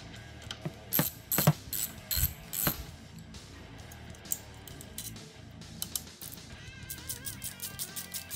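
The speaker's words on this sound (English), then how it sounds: "You're going to take your 12mm socket on a 3/8 drive ratchet and remove the 4 12mm bolts that are keeping the handlebars on." A 3/8-drive ratchet turning a 12mm socket on the handlebar bolts of a Yamaha Grizzly ATV gives close, crisp bursts of rapid pawl clicking, strongest in the first few seconds and then lighter and more scattered.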